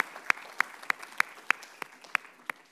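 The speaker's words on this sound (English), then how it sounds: "a round of applause for those colleagues as well" Sparse, scattered clapping from a small audience at a university commemoration evening: about eight distinct, separated claps in an uneven rhythm, fairly faint and distant, with no voices.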